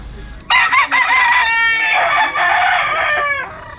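A Kelso gamefowl rooster crows loudly and close by, one long strained cock-a-doodle-doo lasting about three seconds.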